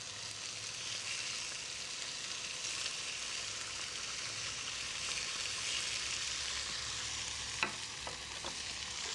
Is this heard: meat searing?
yes